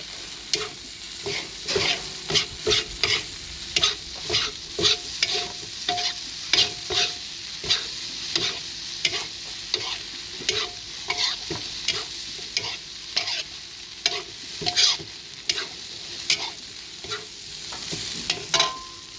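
Rice vermicelli noodles sizzle in a hot pan while a utensil scrapes and tosses them in a quick, repeated rhythm; no one speaks.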